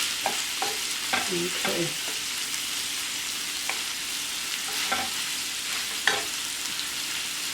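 Still partly frozen food sizzles in a frying pan with a constant hiss, broken by several light utensil scrapes and taps, and a voice speaks one brief word.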